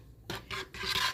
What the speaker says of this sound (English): So just pulse and mix like I'm doing now, like this little agitation stir with your blender.